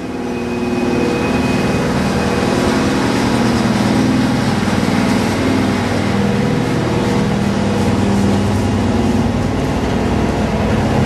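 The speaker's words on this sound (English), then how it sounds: "you can hear the big truck over top of these compressors" At an industrial compressor station, large compressors drone in a continuous, loud mechanical hum, and a big truck's engine rumbles over them throughout.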